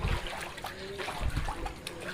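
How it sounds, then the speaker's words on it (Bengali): Drain water trickles and splashes on a flooded street, a close, continuous watery gurgle with small splatters throughout. "দেখছো সব সব ড্রেনের জলগুলো।"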